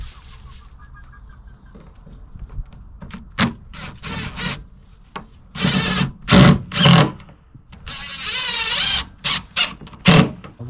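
A power drill drives a couple of screws into a wooden chicken coop lid, giving loud whirring bursts of a second or so, several in a row, with quieter handling noises in the pauses between them.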